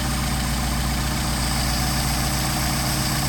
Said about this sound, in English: So that's what adjusting the idle mixture screw will do for you